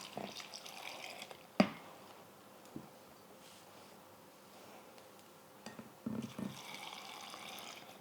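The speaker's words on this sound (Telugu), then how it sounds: "మనం ఈ వాటర్ని మొత్తం ఈ జార్లోకి తీసేసుకోవాలి" Salt water is poured into a jar, a faint steady trickle running under low room hiss, broken by a few sharp clinks of glass.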